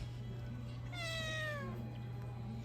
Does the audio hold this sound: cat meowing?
yes